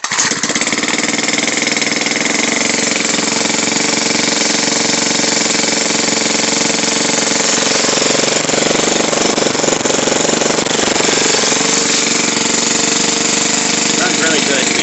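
A straight-piped 4-cycle weed wacker engine runs loud and steady up close, a harsh continuous buzzing drone that shifts slightly in pitch partway through.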